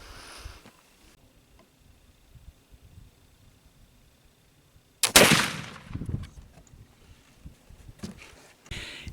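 A single sharp report from a homemade black powder rifle fired at a target outdoors, loud and sudden after quiet, followed by a rumbling decay and a few smaller knocks and rustles.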